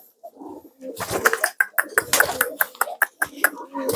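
Small-bodied, agile racing pigeons coo and flutter close by in a rapid series of loud, sharp bursts with low cooing between them. There are no voices.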